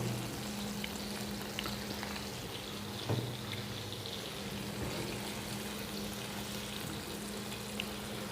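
Eggplant fries in a pan of hot oil for a fish curry, giving a loud, continuous sizzle throughout with a few faint clicks of a utensil and no talking.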